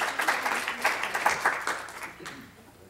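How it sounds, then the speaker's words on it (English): Audience applause following a talk on sugar-sweetened beverage tax evaluations, a steady patter of many hands clapping at moderate level that tapers off toward the end. "You can clap"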